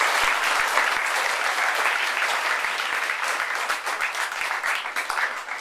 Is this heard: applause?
yes